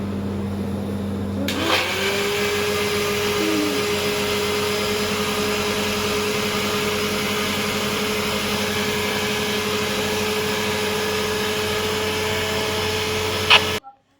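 A kitchen mixer grinder whirs up and runs at a steady, loud, high-pitched drone for several seconds, then cuts off abruptly.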